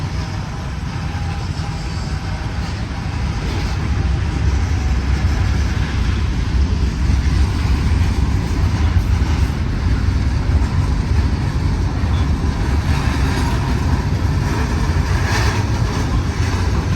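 A Norfolk Southern freight train passes in Altoona, Pennsylvania, after descending the east slope of the Allegheny Mountains. Its heavy, continuous low rumble and rolling roar stay steady and loud throughout, with no voices.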